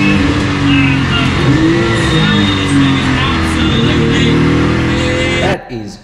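A Porsche 935 race car engine roars loud and close, a dense raspy drone with shifting pitch held for several seconds before cutting off abruptly near the end.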